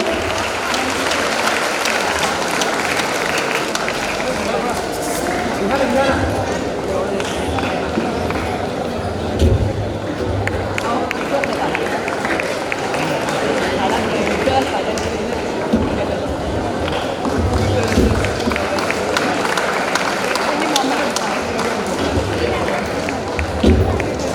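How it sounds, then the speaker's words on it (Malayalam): Sustained audience applause honoring students with top exam results at Sree Narayana Higher Secondary School, a dense, steady clapping texture that holds at an even level throughout with crowd murmur mixed in. "Dear audience, please give a large applause to them."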